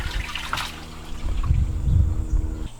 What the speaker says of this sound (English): The freshwater drain is a large 2-inch dump. This really gets rid of the water quick.